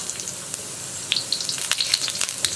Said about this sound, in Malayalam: ഇതിലേക്ക് നമുക്ക് ആദ്യം നമ്മൾ എടുത്തു വെച്ചിരിക്കുന്ന സ്പ്രിംഗ് ഒണിയൻ്റെ വൈറ്റ് പാർട്ട് ചേർക്കാം.